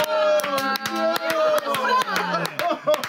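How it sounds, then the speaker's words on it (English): A crowd cheers and claps in a staged show, with voices whooping over sharp, rapid hand claps, close and lively throughout. "People cheer and celebrate."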